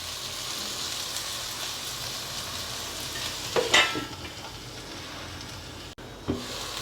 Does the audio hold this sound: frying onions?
yes